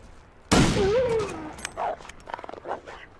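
A rifle fires during hunting in the survival game Pilgrim Survival: one sharp, loud shot rings out and tails off, followed by a few shorter, scattered bursts.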